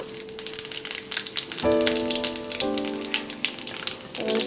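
Whole spices and bay leaves sizzle while tempering in hot oil, a steady close crackling hiss that flares louder partway through, with a faint tonal ring above it.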